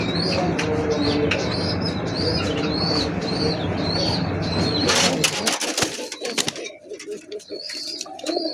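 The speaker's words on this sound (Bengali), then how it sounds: "এবার দেখা দিই পায়রাটার ডাক" A pair of Kashmiri pigeons kept as pets coo in repeated soft calls over busy background bird chirps, with a burst of wing flapping or rustling before the scene quiets.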